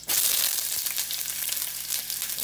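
Onions sizzle and fry in a hot pan for Ilocano igado, a steady loud hiss that starts abruptly and continues without a break, close up, with no talking.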